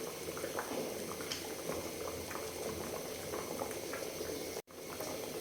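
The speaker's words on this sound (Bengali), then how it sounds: "আমার খিচুড়িটার মধ্যে বলক চলে আসছে।" A pot of thin vegetable khichuri bubbles at a steady boil, a dense continuous burble of liquid heard close and alone, with a brief drop-out near the end.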